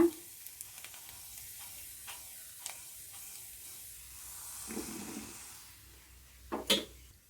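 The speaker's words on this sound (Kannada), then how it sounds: "ನೀಟಾಗಿ ಆಗೋ ಥರ ಫ್ರೈ ಮಾಡ್ಕೊಳ್ಳೋಣ." Flattened rice tempering sizzles quietly in a pan, a soft hiss with scattered scrapes and taps of a spoon and a brief louder burst of frying near the end.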